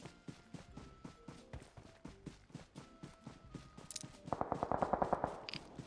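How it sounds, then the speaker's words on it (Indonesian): Gunfire in the mobile battle royale game PUBG Mobile sounds as a rapid, steady stream of faint, regular shots, growing denser and louder near the end as a second weapon joins in. "Dia nembak gue Pakcik."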